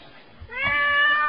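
A cat recovered from the rubble of a destroyed home gives a single clear, drawn-out meow, close and fairly loud, with no talk over it.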